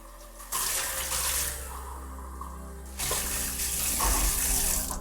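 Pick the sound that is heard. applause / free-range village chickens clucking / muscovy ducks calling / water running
water running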